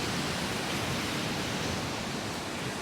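Ocean waves crash continuously at Dana Beach Pier, a steady, loud wash of surf noise filling the whole stretch with no pauses or voices.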